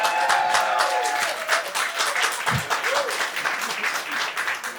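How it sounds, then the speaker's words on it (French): An audience claps steadily, a dense, loud wash of applause lasting throughout with a few faint voices mixed in. "Ça peut s'applaudir."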